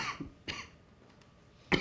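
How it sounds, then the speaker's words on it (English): A person coughs in short, sharp bursts: a few dry coughs spaced about a quarter second apart, a pause, then one louder cough close to the microphone. "apologize for the coughing"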